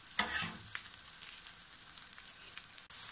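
Potato and tuna galettes fry in a pan with a steady, bright sizzle and occasional crackles and pops, close and continuous, with no one talking.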